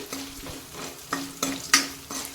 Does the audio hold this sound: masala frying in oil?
yes